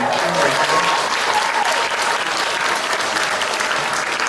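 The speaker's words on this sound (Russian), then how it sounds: "Это заслуживает хороших аплодисментов." An audience breaks into dense, sustained applause at a school anniversary celebration, many hands clapping steadily and fairly loudly for several seconds with no pause.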